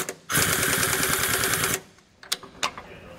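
A power tool snugs up bolts on a Roadmaster rear anti-sway bar on a 2022 Tiffin Open Road Allegro motorhome, giving one loud rattling burst of about a second and a half, then two brief clicks.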